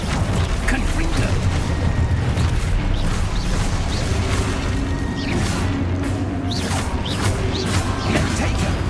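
Confringo blast spells firing in the Hogwarts Legacy video game, a dense run of booming, crashing impacts and whooshes layered over constant loud battle noise.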